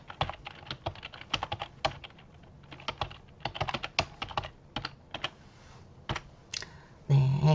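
Rapid keystrokes on a computer keyboard come in uneven bursts with brief pauses, close and clear, and end in a louder thump.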